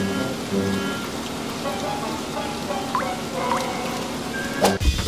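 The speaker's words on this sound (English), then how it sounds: "Wow! Can you see rain?" A simulated rain effect at a children's technical museum patters steadily in a busy indoor hall, with faint thin squeaks and a short clatter near the end, no clear speech.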